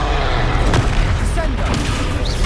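A Confringo spell goes off in a wizard video game as a loud, close boom with a dense crackling blast that fills the whole clip, overlapping game voices.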